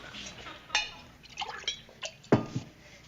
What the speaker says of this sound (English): Would you please pour me some more water?